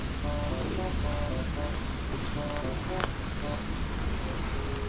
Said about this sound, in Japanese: 雨だな。